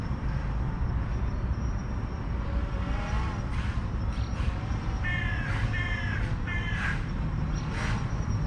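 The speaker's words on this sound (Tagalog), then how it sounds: "Kaya lang ang mapapansin nyo, marami ng uwak." Several crows caw in short repeated bursts over a steady outdoor rumble near an irrigation pool, the calls coming from a moderate distance.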